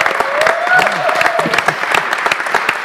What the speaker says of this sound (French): c'est tellement bon les applaudissements